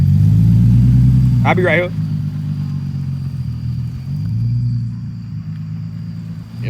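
A Nissan 370Z with an ISR single exit exhaust rumbles past in a deep, throaty drone that swells then fades, while a person briefly speaks over it.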